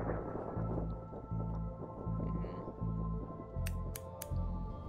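In The Darkside Detective, newspaper clippings are cut out in a steady rhythmic run of about six snipping strokes from scissors over a low background hum, with a few sharp clicks at the end.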